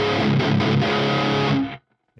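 A seven-string electric guitar rings out through a distorted amp tone, a loud, sustained chord-like burst lasting over a second before cutting to silence, with a brief sound returning at the very end.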